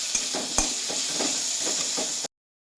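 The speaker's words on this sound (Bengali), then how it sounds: "দেখো আদা বাটা প্রায় কমপ্লিট। তো এইটাকে পেস্টটাকে আমি দিয়ে দেবো, এটাকে দিয়ে ভালো করে নাড়াবো।" Ginger paste stirred in a hot frying pan, a loud steady sizzle broken by several scraping stirs of the spatula before the sound cuts off abruptly.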